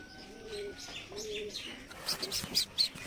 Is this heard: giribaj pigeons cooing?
yes